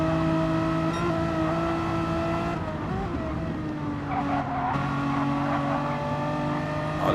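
Renault Megane Trophy race cars in a racing video game climb a hill with sustained, loud engine tones that shift pitch, along with brief tire squeal partway through.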